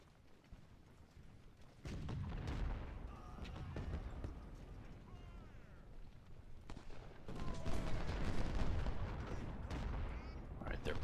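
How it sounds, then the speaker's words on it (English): Artillery fire in the Ultimate General Civil War video game, Union side at Phillipi: distant booming volleys and crackling fusillades rolling in two loud waves, with a faint voice audible in the quieter stretch. "Artillery's about to kick in."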